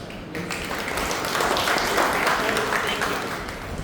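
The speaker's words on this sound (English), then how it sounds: "A big round of applause." Applause from a college seminar audience after a talk on holistic development and philosophy, a steady wash of clapping lasting a few seconds with some voices mixed in.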